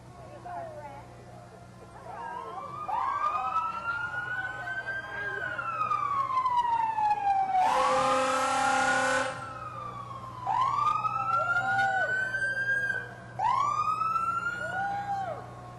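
Fire chiefs' vehicles from the City of Peekskill roll through a July 4 parade, their sirens wailing in repeated rising and falling sweeps, broken midway by a long, blaring horn blast over steady crowd and engine noise.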